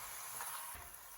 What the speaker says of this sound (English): So keep it in medium flame and fry it until crispy.